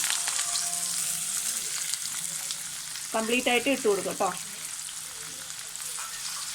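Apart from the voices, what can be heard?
garlic and ginger frying in oil with mustard seeds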